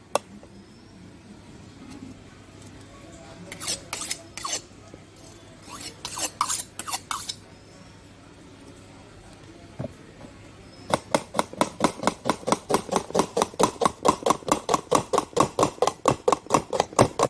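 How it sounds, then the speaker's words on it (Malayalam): A knife chops three onions on a cutting board. A few scattered bursts of cuts come first, then a fast, even run of sharp, close knocks that grows louder toward the end. "മൂന്ന് സവാള എടുക്കാം നമുക്കതൊന്ന് കട്ട് ചെയ്യാം"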